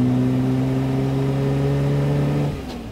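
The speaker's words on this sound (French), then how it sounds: "Regarde le bruit quand t'accélères" A car engine revs up steadily with a strong, rising hum, then drops off abruptly near the end, close by and with no talking over it.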